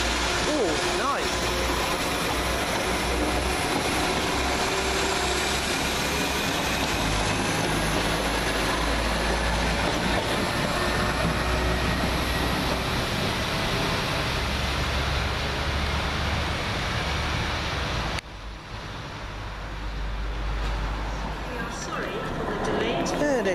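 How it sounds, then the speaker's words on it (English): A Class 172 diesel multiple unit on a Kidderminster service pulls into Cradley Heath station, a loud, steady rumble of engine and wheels lasting the whole stretch, shifting in tone near the end as it draws in. "There comes my train"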